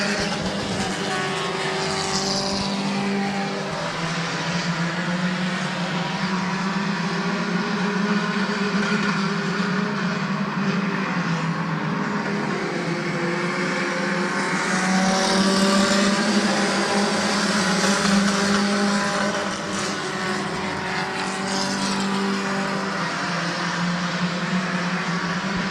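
Race cars roaring around the dirt oval at Midvale Speedway during the 2007 fall classic, a loud, continuous engine drone that rises and falls as the pack passes, heard from a distance with no talk.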